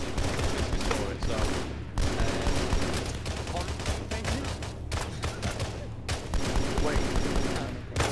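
Gunfire in Arma 3, loud sustained volleys of overlapping shots and bursts running throughout, close and dense, with voices talking amid the fighting.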